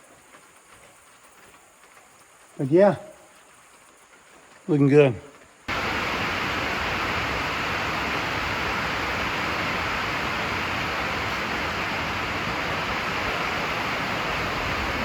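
Steady rain pours down outside a barn, a dense, even hiss that starts abruptly and runs unbroken to the end, preceded by two short spoken phrases over near-silence.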